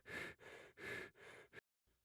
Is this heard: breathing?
yes